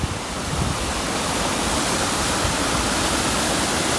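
Floodwater pours steadily over a canal barrier in a flooded waterway, a loud unbroken roaring rush that fills the whole stretch with no pauses.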